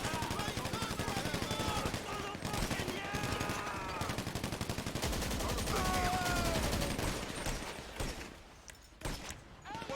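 Gunfire rattles in GTA Online, dense rapid bursts of automatic shots loud and close for most of the stretch, thinning toward the end, with a voice talking over the shooting.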